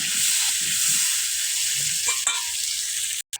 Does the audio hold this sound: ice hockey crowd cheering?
no